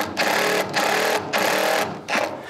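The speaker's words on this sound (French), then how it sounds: "le rrr que vous entendez, c'est pas qu'il dérape, hein. C'est une viseuse à choc." An impact driver drives screws while a wooden pool liner is being fastened, giving three or four loud bursts of fast rattling hammering with short pauses between them, close by with no talking.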